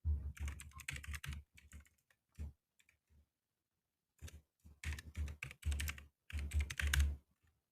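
Someone types a password on a computer keyboard with rapid, close key clatter. It comes in bursts separated by short pauses, with a longer silent gap midway before quick typing resumes.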